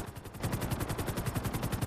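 Laser cannons fire from a jet in a video game, a rapid, even burst of repeated shots that sounds close and continuous for about two seconds.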